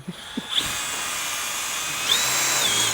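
A brushless cordless power tool whirs steadily in a workshop while a vintage Cummins tow truck is being restored, a sustained high-pitched motor whine that ramps up briefly near the end, with a few small clanks at the start.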